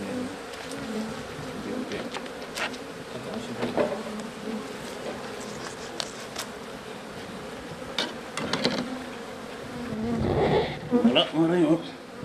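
Bees swarm and buzz loudly around a hive as comb is moved from a natural nest to a new box, a dense steady insect drone throughout with scattered clicks and handling noises, rising louder near the end.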